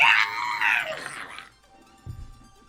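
A voice imitates an enemy screeching and crying out in pain during a tabletop role-playing session, a loud, drawn-out rising and falling scream lasting over a second, followed by a brief low grunt.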